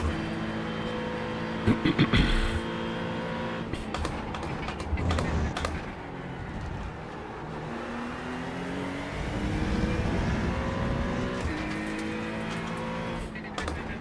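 Race car engine in a sim racing video game, droning steadily with rising and falling revs through gear changes, with occasional clunks and a brief burst of noise near the start, under someone talking.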